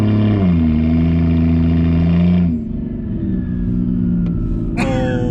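A BMW 335 fitted with a big turbo, which has already broken, holds a loud, steady droning rev that suddenly drops back to a rougher, lower idle, followed by a brief sharp burst near the end.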